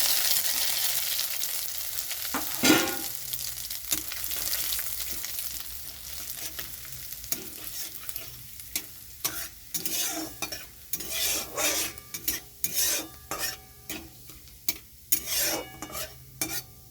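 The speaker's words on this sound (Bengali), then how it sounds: "ওই তেলের মধ্যেই আমি এখন দিয়ে দিচ্ছি, এখানে নিয়েছি শুকনো লঙ্কা, তেজপাতা, আদা আর রাঁধুনি।" Dried chili, bay leaf, ginger and radhuni crackle and sizzle as they hit hot oil, with stirring scrapes and clinks of a utensil against the pan, loud and close, continuing in uneven bursts without talk.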